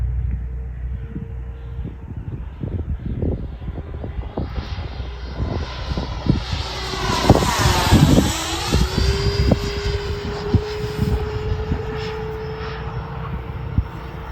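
A Freewing Hornet RC jet with a new motor flies past, its electric ducted-fan whine steady at first, then swelling loud and sweeping in pitch as it passes close overhead, over wind buffeting on the microphone.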